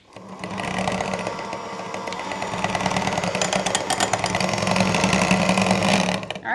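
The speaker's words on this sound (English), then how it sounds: "you just blend everything until your cream cheese is nice and smooth" Blender running continuously as it whips cream cheese smooth for a keto dessert, a steady, loud motor whir with a fast rattling texture that holds for several seconds before cutting off.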